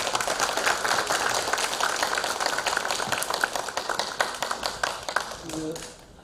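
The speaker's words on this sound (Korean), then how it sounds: "박수 한번 보내주시죠." A forum audience at a Sewol ferry disaster memorial applauds in dense, steady clapping that fades out near the end, followed by a brief voice.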